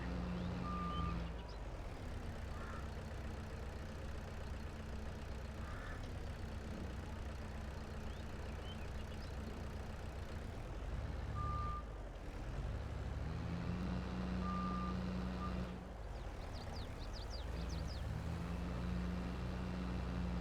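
Tractor engine in Farming Simulator 22 laboring under load, a steady loud low drone running throughout with brief dips and occasional short electronic beeps, no one talking.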